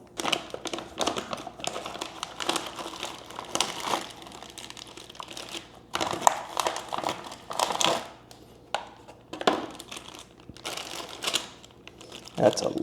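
A small bag of plastic clips for a Tuxmat floor mat set for a Mazda Miata ND is torn open and handled, giving a close run of crinkling plastic rustles and sharp clicks with quiet pauses.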